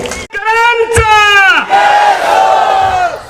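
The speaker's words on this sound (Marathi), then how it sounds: "एकदा जोरदार टाळ्यांचा गजरून जाऊ द्या सुकृतीसाठी" A crowd at a stage performance about the life of Ramai lets out loud, ringing shouts, then breaks into sustained, close-miked cheering and clapping that fills the rest of the moment.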